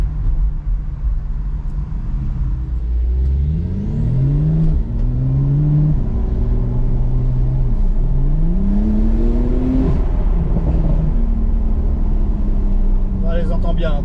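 A 2017 Porsche 911 Targa 4S bi-turbo drives through town, its engine rumbling loudly and rising and falling in pitch through several gear changes, with a voice speaking over it.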